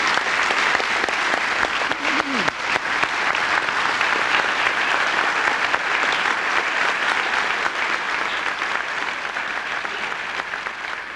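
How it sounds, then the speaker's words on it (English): Sustained applause from an audience at a 1990 Bujinkan martial arts tai kai in Atlanta, honoring the instructors' demonstration; dense, steady clapping fills the room for about eleven seconds without letting up. "let's clap hands for all the instructors for the demonstration"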